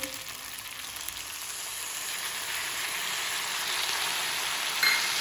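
Lemon rice with lemon juice being mixed in a hot pan, giving a steady sizzling hiss that swells slightly toward the end, close and continuous with no voices.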